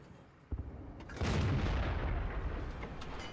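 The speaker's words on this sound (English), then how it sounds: "Aiming for the T-54 now, puts a shot into him." Tank cannon fire in the online game World of Tanks, one sharp onset followed by a heavy booming blast that rumbles and decays slowly, loud and without talking.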